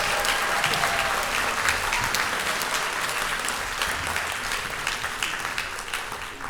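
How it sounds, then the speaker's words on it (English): An audience at a school beginner band day claps for the young band students, a sustained round of dense, fairly close applause that tapers slightly toward the end. "Let's give them one more round of applause."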